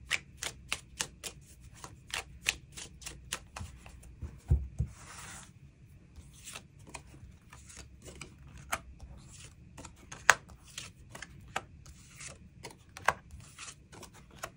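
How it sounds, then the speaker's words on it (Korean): Tarot cards being shuffled and drawn make a crisp, regular series of close slaps and flicks, with a denser riffling burst partway through and no voices. "추가 카드 뽑아보도록 하겠습니다"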